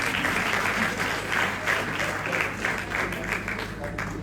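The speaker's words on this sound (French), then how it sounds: "est-ce qu'on peut applaudir" Church congregation applauding steadily throughout a Sunday service, a dense, even wash of clapping with no breaks, filling the room at close range.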